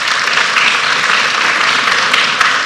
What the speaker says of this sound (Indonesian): Beri tepuk tangan buat Dr. Rianto.